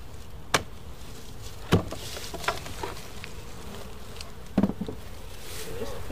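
Honey bees buzz inside an opened beehive holding some thirty thousand bees, a steady low drone with a few close, brief buzzing passes and light knocks on the hive boxes.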